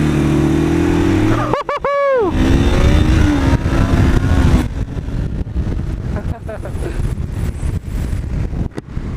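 A motorcycle accelerates hard in a clutch-start race, its engine note sweeping sharply up in pitch before settling into a loud, rough roar mixed with strong wind buffeting.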